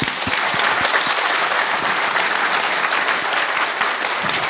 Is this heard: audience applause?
yes